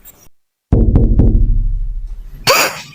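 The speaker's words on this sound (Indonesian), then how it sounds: "Tapi kok ini kayak suara ngetok-ngetok jendela ya?" Knocking on a window in the Sakura School Simulator game: a run of several sharp, close raps in quick succession, each ringing briefly, followed by a louder hissing burst near the end.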